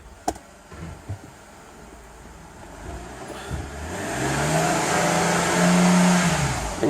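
A Mercedes car engine with a slipping 722.5 automatic transmission revs up and holds a rising, droning pitch for a few seconds. A few faint clicks and quiet mechanical noises come before it.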